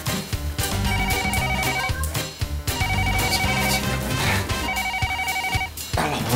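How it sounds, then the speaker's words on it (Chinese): A telephone rings in a home in repeated electronic tone bursts with short pauses between them, fairly loud and partly mixed with background music. "接电话，接电话。"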